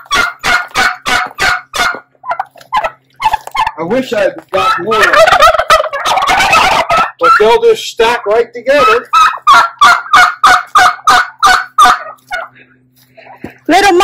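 Turkeys gobbling loudly and repeatedly in a backyard poultry yard, rapid close rattling bursts in series, with a person speaking briefly partway through.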